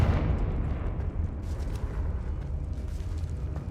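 A Confringo explosive spell from the Hogwarts Legacy video game gives a dense, sustained rumbling blast that stays loud and roaring throughout, with no talk.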